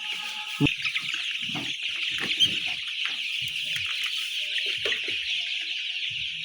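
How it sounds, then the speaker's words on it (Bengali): Many chickens being chased in a farm shed at night, clucking and squawking with scattered flutters and short cries over a constant high-pitched din. "মুরগিগুলোকে কিন্তু আমি একটু তাড়িয়ে দিলাম"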